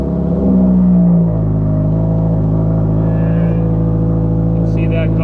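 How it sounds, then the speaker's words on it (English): A Subaru WRX engine with a flex fuel kit and AEM fuel pump idles with a steady low rumble, briefly higher at the start before settling into an even drone. "but go ahead, turn on the car."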